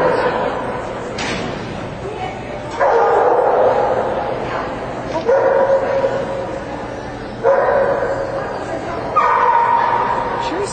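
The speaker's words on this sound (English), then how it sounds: "I love this dog's bark." A dog gives short, high, squeaky barks and yips in several bursts, fairly close, while people talk over and between them.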